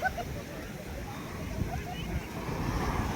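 A broad, rushing wash of ocean waves at Puri beach at sunrise, with wind buffeting the microphone, loud and continuous over the short stretch.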